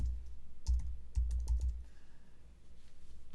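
A name and email address go into a form on a computer keyboard as quick bursts of close key clicks, grouped in short runs with brief pauses between them.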